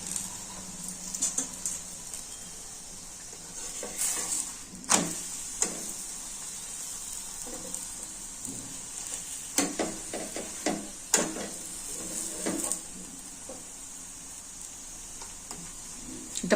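A chapati cooks in oil on a hot stovetop pan with a steady high sizzle, broken by intermittent taps and scrapes as it is pressed and turned, with no talking.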